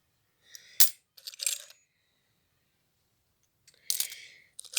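Small metal coins and medals clink and rattle as they are handled, in short separate bursts of jingling with quiet pauses between, close and fairly soft.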